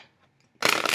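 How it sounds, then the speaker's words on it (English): Cards of a brand-new Wild Unknown Animal Spirit oracle deck, 63 thick-cardstock cards, are shuffled in a sudden loud riffling burst after a quiet start. "So as I'm shuffling this"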